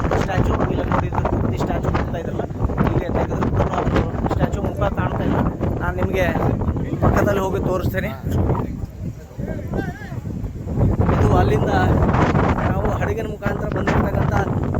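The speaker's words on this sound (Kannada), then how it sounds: "ನೋಡಿ ಹಾಗೆ ಅಲೆಗಳು, ಈ ಒಂದು ಗಾಳಿ" Strong sea wind buffets the microphone on the Kanyakumari shore, a continuous rushing roar that swells and dips, with a person talking over it throughout.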